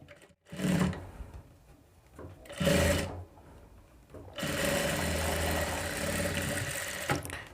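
Double stitching on a boat neck blouse: a close sewing machine gives two short bursts, then settles into a long, steady, humming run.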